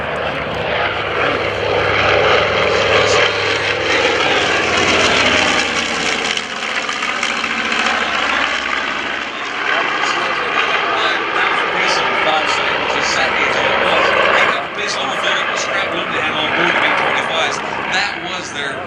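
A warbird propeller plane flies past at the New Garden Airshow, its engine a loud, steady drone that swells and shifts pitch as it passes, with an announcer talking over it throughout.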